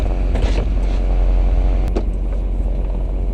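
A 2006 Duramax 2500HD diesel pickup truck on the move, a steady loud low rumble of engine and road noise heard from inside the cab, with a couple of brief knocks and rattles over the drone.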